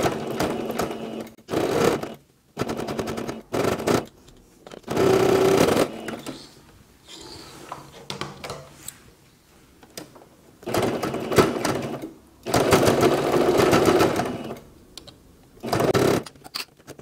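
A sewing machine stitches the side seams of a small carnival waist pouch, running in several loud bursts of rapid whirring with short pauses between them, alone without any talk.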